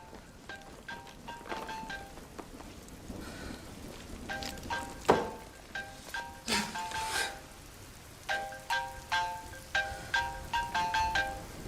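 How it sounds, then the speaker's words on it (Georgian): A telephone rings with a repeating melodic ringtone in a dubbed drama scene, bursts of bright tones recurring in a steady pattern over faint background noise. "ტელეფონი."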